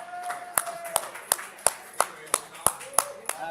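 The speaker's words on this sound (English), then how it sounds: "I appreciate the applause." Sparse, separate claps at a live sports talk show in a bar, about eight sharp claps spaced across the moment over murmured voices, more scattered hand claps than full applause.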